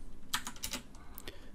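Quick light keystrokes on a computer keyboard while code is typed, a handful of soft clicks close by and fairly quiet.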